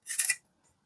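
A single short, close scraping rasp of a knife peeling cassava for fufu, lasting well under half a second before silence, with no talking.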